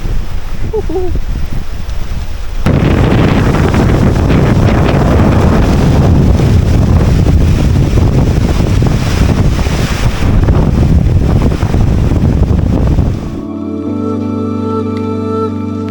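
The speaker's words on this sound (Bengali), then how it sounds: "অনেক বাতাস হচ্ছে আজকে।" Strong wind roars across a hilltop in Bandarban, a loud continuous buffeting rush against the microphone that runs for most of the stretch before cutting to a quieter, steadier background.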